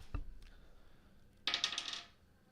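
A die is rolled on a tabletop for a tabletop role-playing game, a sharp tap followed a second later by a quick cluster of bright clattering rattles as it tumbles and settles, close and fairly quiet.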